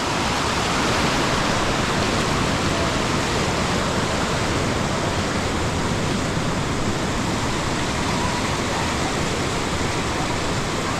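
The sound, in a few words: mountain river flowing beside trail to Kaindy lake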